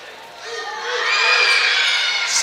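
Crowds at a varsity boys' basketball game shout and cheer during a free throw, the noise swelling from a murmur into a loud, sustained roar with children's shrill voices on top.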